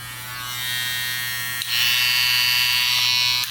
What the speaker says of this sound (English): It's a loud trimmer.